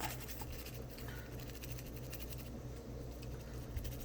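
A toothbrush dipped in alcohol scrubs around a phone keyboard, giving a faint, steady scratchy brushing that stays quiet and continuous, with no voices.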